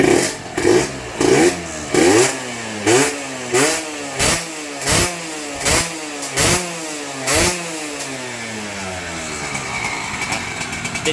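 A Yamaha TZR motorcycle, a premix two-stroke with a very light throttle, revs hard in about ten sharp bursts that rise and fall in a steady rhythm, then settles into a rough, buzzing idle. The engine is close and loud, with no talk.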